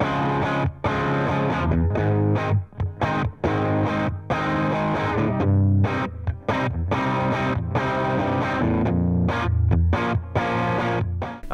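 Heavily distorted guitar plays a dense, buzzing chord progression, loud and continuous with brief gaps between strums.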